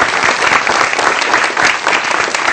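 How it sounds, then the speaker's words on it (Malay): Loud, continuous applause from a seated audience at a student leadership forum, a dense wash of many hands clapping without pause. "Tepukan juga kepada anda."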